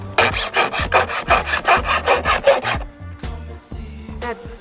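Hand file rasping the edges of a hole cut in a campervan roof, a rapid run of about a dozen loud rhythmic scraping strokes, then quieter knocks and handling sounds.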